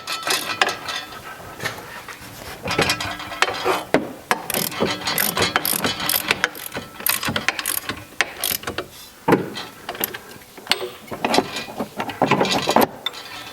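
A ratchet wrench clicks in repeated quick bursts while bringing down the nut on a Porsche Boxster front suspension strut, close metallic ratcheting with short pauses and clinks of tools between runs.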